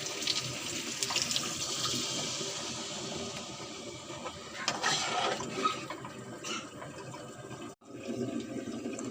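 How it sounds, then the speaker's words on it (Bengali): Water poured into a pot of braised chicken and potatoes in a home kitchen, a steady splashing, rushing stream lasting several seconds before a brief break and a final trickle. "মাংস আলু কষানো হয়ে গেছে, পানি দিয়ে দেবো।"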